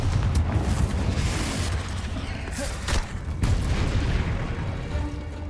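Confringo blasting spell explosions in the Hogwarts Legacy video game, a run of heavy, booming blasts and rumbling impacts that overlap one another and stay loud without a break.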